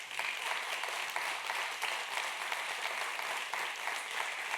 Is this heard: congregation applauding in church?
yes